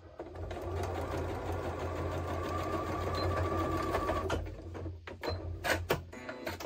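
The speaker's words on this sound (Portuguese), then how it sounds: "eu vou olhando se está certinho e continuo a costura até o final" A sewing machine runs a long, steady seam with a close, even mechanical hum and rapid needle clatter. The hum stops near the end, and a few short clicks and knocks follow as the stitching finishes with a backstitch.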